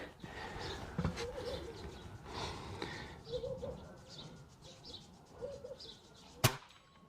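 A Weihrauch HW50S .177 spring air rifle firing JSB knockout slugs outdoors gives a single sharp, loud crack near the end, after a stretch of faint ambience with birdsong.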